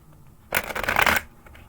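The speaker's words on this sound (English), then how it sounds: "Oh, let's shuffle this first." A deck of cards is shuffled once in a quick, crisp riffle that lasts under a second, close and alone against a quiet background.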